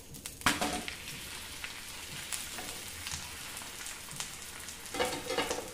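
A methi paratha frying in oil on a hot pan gives a steady crackling sizzle, with louder bursts of spatter near the start and again toward the end, close and with no voices.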